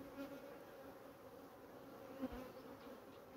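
Honeybees buzz agitated around a beehive, a steady faint droning swarm hum with one brief closer pass near the end, no voices.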